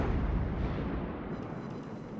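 Heavy naval gunfire in World of Warships as a Salem cruiser pounds a Musashi battleship, a dense continuous rumble of booming shell fire and impacts, loud and close throughout.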